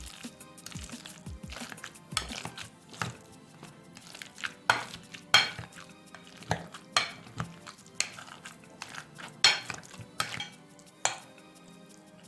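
Avocados being mashed in a large bowl give a series of irregular clinks and soft squelching presses of a utensil against the bowl, spaced out and fairly close, with no talking.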